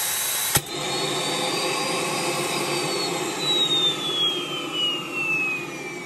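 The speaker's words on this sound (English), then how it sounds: "Once I can see it's soft enough and it starts to droop, I'll then turn on the vacuum." A sharp click, then a vacuum forming machine's vacuum drones on steadily and loudly while forming a windshield, with a faint whine that slowly drifts downward in pitch.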